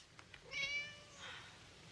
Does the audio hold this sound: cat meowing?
yes